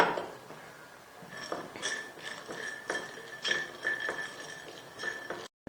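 Whole spices being dry roasted in a metal pan for green bhuna qeema, with a string of light clinks and scrapes as a utensil taps and stirs against the pan, close and unhurried, with no talk.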